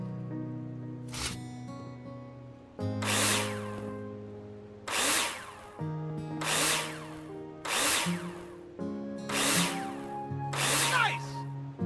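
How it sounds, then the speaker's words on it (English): Power drill driving screws into plasterboard in the Builder Simulator game, about six separate whirring bursts spaced a second or two apart, loud and close over a steady background. "Take your drill out and screw them in."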